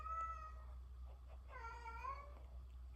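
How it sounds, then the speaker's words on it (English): A house cat meowing indoors, a faint short call followed by a longer, drawn-out meow with a rising and falling pitch, heard over a low steady hum. "So if you're wondering what that, sound is, that's my cat."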